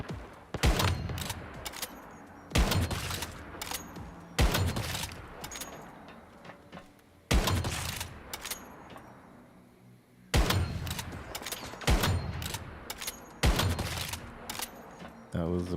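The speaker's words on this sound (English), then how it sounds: "Who's shooting?" Bursts of gunfire in the video game Once Human, several loud volleys of rapid shots separated by short pauses, sharp and close, with a voice speaking in between.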